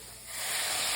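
Liquid poured into a hot pan of sautéed spices for a green bean cacio e pepe, giving a steady steamy hiss and sizzle that swells after the first moment and holds close and loud.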